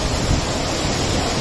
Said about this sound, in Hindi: और यहाँ से ये पानी जा रहा है जी।